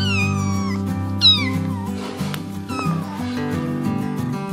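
A cartoon mother cat in a yard gives a few rising and falling meows over steady background music, close and clear.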